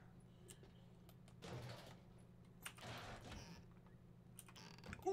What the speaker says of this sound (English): Unlocked bathroom door.